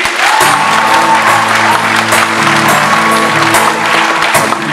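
A concert crowd at a comedy-music show in Zolochiv applauds loudly, a thick, continuous roar of clapping mixed with a sustained musical chord playing underneath.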